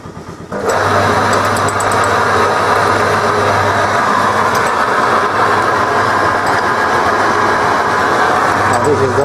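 The motor of an old restored transporter runs at low speed, a loud steady mechanical drone with belt-driven rattle that starts abruptly and continues throughout, with a low hum fading in and out; someone talks over it.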